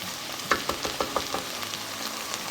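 Almonds and pistachios roasting in a pan hiss with a steady, close sizzle while a spoon scrapes and clicks through them in a loose stirring rhythm, with no voices.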